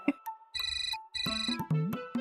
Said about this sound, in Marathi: ते बघ फोन वाजला बघ